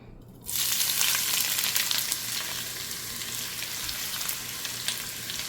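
Chopped onions dropped into hot ghee with cardamom pods and bay leaves, erupting into a loud, dense sizzle after a brief quiet start and holding steady throughout.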